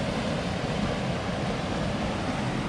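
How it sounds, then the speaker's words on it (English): Steady roar of Middle Ammonoosuc Falls pouring into a deep pool, a dense, unbroken rush of water that stays loud and even throughout with no voices. "Okay, I think the other waterfall was Upper Ammonoosuc Falls, and this is Middle Ammonoosuc Falls in this area."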